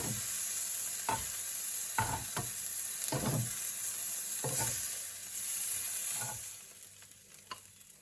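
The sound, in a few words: stir-frying vegetables and prawns in a pan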